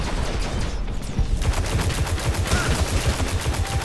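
Rapid gunfire from a rifle in the video game Destiny, a dense run of repeated shots with a steady automatic rhythm, loud and close, layered over game background noise.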